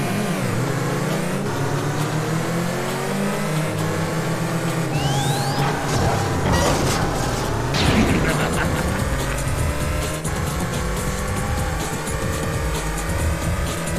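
Peugeot 406 engine revving and accelerating in the PS2 racing game Downtown Run, a steady mid-pitched drone with rising and falling gear sweeps and scattered game effects throughout, loud and continuous.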